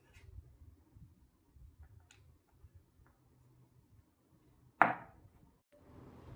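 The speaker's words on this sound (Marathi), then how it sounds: "हे असे बारीक चिरून घ्या कापून घ्या चिरून घ्या" A kitchen knife finely chopping ingredients for yogurt kebabs on a board: soft, scattered taps come in short bursts, then one sharp, louder knock near the end.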